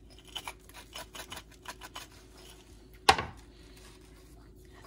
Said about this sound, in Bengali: ধইনা পাতা, কাঁচা মরিচ আর একটু বিট লবণ দিয়ে এগুলা ছেঁচা নিতেছি।